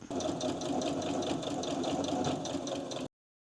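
A sewing machine stitches a rug piece onto fabric in a steady, rapid mechanical whir for about three seconds, close and alone before it stops abruptly.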